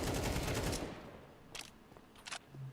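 Pistol fire from USP handguns in a Counter-Strike match, a dense burst of shots crackling at the start and fading out, followed by a few sharp isolated shots and faint game noises.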